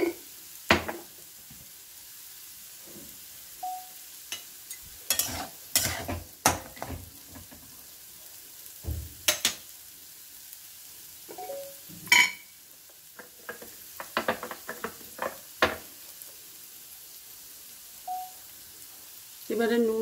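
Rice is fried in a pan and stirred with scattered scrapes and clinks over a soft, low sizzle. There are quiet gaps between the strokes.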